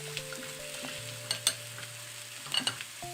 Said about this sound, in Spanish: la idea es que se nos cocine un poco y que se nos selle, que se nos dore un poco